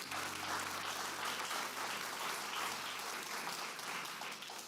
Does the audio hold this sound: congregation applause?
yes